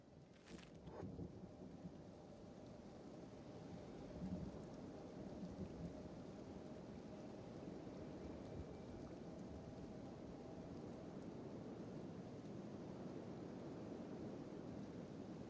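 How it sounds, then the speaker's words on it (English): Rain and thunder in the video game Kenshi: a soft, continuous hiss of rainfall with a low rumble beneath it, faint and steady throughout, with no voices. "Rain."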